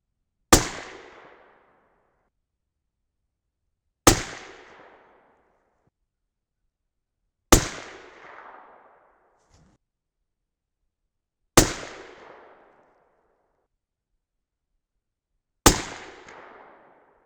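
Five loud 6.5 Creedmoor rifle shots fired with H4350 powder loads and 143gr ELD-X bullets, each a sharp crack with a short decaying echo, spaced roughly four seconds apart.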